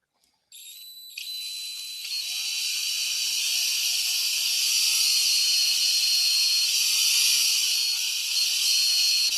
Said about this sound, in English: so I need to drill a hole